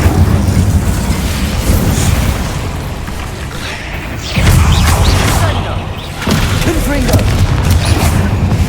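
The Incendio fire spell cast in Hogwarts Legacy, heavy booming bursts of flame with a deep rumbling body, one big surge midway and another near the end, loud and close.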